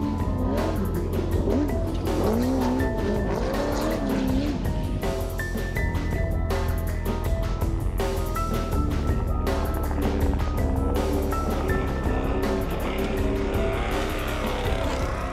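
Off-road race vehicles roar through the Primm 300 SCORE desert race outside Las Vegas, Nevada, their loud engines droning and revving continuously with rising and falling pitch, joined by high whining tones, and no speech.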